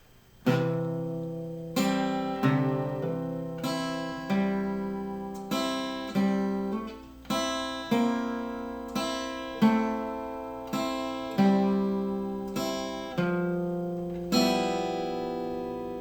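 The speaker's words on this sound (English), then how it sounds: "So that whole C run slowly sounds like this" Acoustic guitar slowly picking the C run from the intro of a song, about a dozen clear plucked notes and chords ringing one after another at an even unhurried pace, close and alone.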